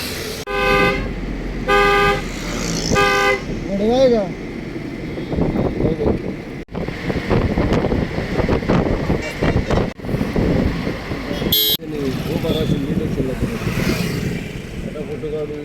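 A dairy delivery tempo rumbles along with wind buffeting the microphone, and a horn honks in several short bursts early on while people talk.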